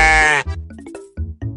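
A goat lets out a loud, wavering bleat up close, followed by short voiced grunting sounds that break into choppy fragments.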